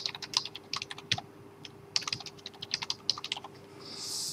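Password entered on a computer keyboard, quick irregular bursts of close crisp keystrokes with short pauses between groups, in a quiet room with a faint steady hum.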